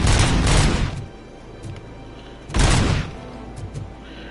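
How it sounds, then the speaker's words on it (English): Two bursts of pistol gunfire in a Robocop video game, each a loud cluster of sharp shots lasting about half a second, separated by a quieter stretch with a few faint clicks. "This is a fucking pistol."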